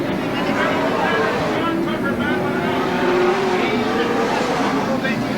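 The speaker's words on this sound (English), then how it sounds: "So, fast racing action here at Miramichi City Speedway." Race cars from a 1999 MASCAR event at Miramichi City Speedway roar around the track, a loud, continuous engine drone with shifting pitch as cars pass, and no distinct pauses.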